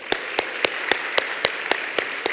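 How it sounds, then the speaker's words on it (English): Audience applause at a healthcare awards ceremony: a steady wash of clapping with about nine regular, louder hand claps standing out above it, close and continuous with no talk. "let's give another round of applause"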